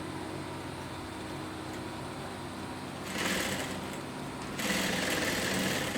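A sewing machine stitches fabric at a 2.5 stitch length in a beginner's sewing lesson, two steady whirring runs of a second or more each over a low room hum, close and with no talking.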